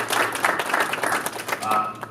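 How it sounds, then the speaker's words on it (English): Audience at a forum on Louisiana higher education breaking into applause, a dense burst of clapping close to the microphone that tapers off over about two seconds. "give yourselves a great round of applause."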